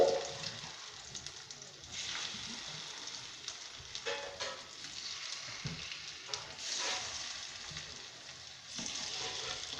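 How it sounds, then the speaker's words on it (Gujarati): Pieces of dudhi handvo (bottle gourd savory cake) with sesame seeds sizzle and crackle in a hot pan, with soft irregular popping and occasional stirring or scraping noises. "અને તલ પણ એડ કરી દઈશું, અને પાંદ એડ કરીશું છે તેમાં રાખી દઈશું અને આમને થોડીક વાર માટે સાતળવા દઈશું"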